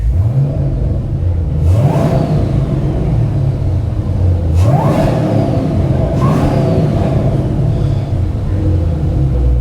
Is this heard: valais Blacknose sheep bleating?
no